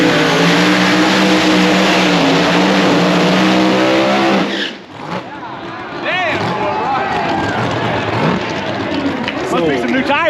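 A No Prep Kings drag race car at Tulsa Raceway Park does a long burnout: a loud engine howls with squealing tires for several seconds, then cuts off. Distant engine revs and crowd talk follow.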